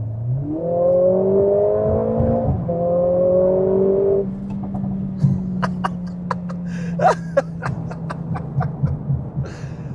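A Mercedes-AMG A45 S hatchback engine drones and climbs under throttle for several seconds, then a scattered series of sharp exhaust pops and crackles breaks out, close and loud with no talking.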